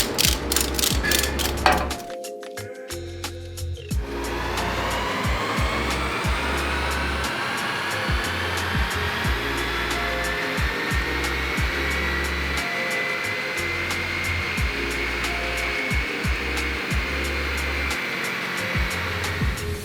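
On a dyno, a Ford Focus ST runs a pull on its tires with a steady, droning mechanical whine that rises through the run. A brief burst of clicking near the start gives way to continuous roller and engine noise.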